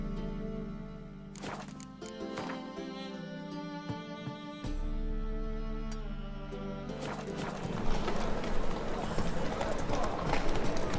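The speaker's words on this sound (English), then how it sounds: "Whoa there, Roach" Horse hooves clip-clop in the Witcher 3 video game, a quiet rhythmic trot under background music that picks up toward the end, with speech over it.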